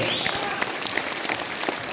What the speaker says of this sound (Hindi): मैं चाहूँगा इन लोगों के लिए बेजोड़ ताली होनी चाहिए।